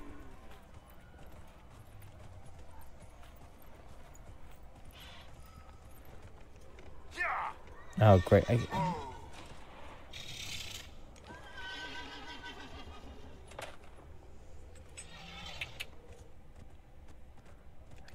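Horse in Dragon Age: Inquisition, a video game: a sharp whinny and clip-clop of hooves rising over quiet game ambience, with someone talking intermittently.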